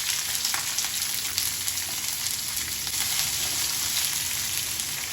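Shallots, green and dried chillies and curry leaves fry in coconut oil for a Kerala-style ulli theeyal, giving a loud, dense, continuous close sizzle with crackling and no talk.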